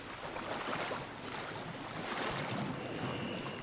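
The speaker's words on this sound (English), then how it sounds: "This is all water." Rushing, washing water in a dark area of the survival game Sons of the Forest, a broad steady wash of noise like waves, continuous and fairly even throughout with no talk.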